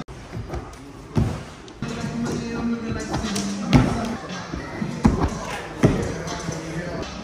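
Several dull thumps land at irregular intervals as people land front flips on trampolines in a trampoline park, with springy rustling between them and people talking over the impacts.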